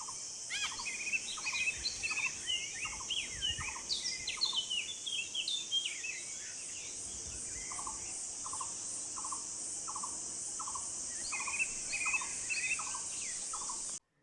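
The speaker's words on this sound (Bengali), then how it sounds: "দু কান ভরে আপনি শুনবেন পাখির গান" Steady high insect drone runs throughout while several birds sing and chirp repeatedly in the background of a dense forest at Chilapata, a thick outdoor chorus with no talking.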